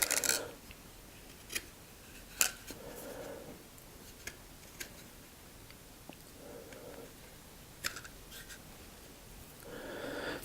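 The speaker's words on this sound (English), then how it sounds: "I'm going to use the razor sharp knife just to expose a cleanly cut fresh piece of cambium." A razor-sharp knife trims a freshly sawn branch on a large Chinese elm bonsai to expose clean cambium, giving a few short, crisp scrapes and clicks spaced apart against a quiet background.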